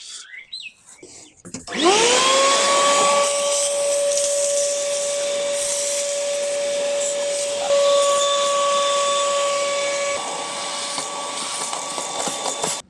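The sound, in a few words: vacuum cleaner running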